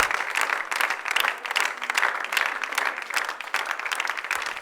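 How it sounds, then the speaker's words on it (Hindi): Studio audience applause welcoming actress Ayesha Khan onto an ARY Zindagi comedy show set, a dense, steady wash of many hands clapping that stays loud and even for several seconds. "आपकी तालियों में बुलवाते हैं उनको"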